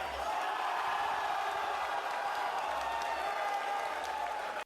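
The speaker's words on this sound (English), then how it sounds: "So you see people cheering," A crowd at a Street Fighter Third Strike tournament cheers and applauds in a dense, steady roar that holds at full loudness, then cuts off abruptly at the end.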